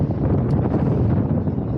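Steady wind buffeting the microphone outdoors on a Greek island, a dense low rumbling roar that continues without pause and no speech.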